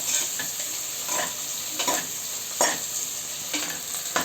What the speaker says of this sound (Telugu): ఉల్లిపాయని బాగా వేయించుకోవాలి